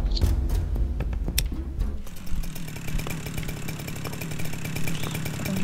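A chainsaw in the game Alien Swarm Reactive Drop drones with a steady buzzing rev, preceded by a couple of seconds of heavy, booming bursts.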